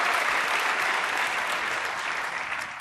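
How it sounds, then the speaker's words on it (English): A crowd claps for an alderman at an event in Chicago, dense and sustained applause that fills the whole moment and tapers slightly at the end. "Give Leslie a big round of applause."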